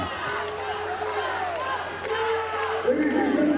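A wrestling match crowd screaming and cheering in a large arena, a loud, continuous roar of many voices with shrill rising yells, heard under a commentator's talk.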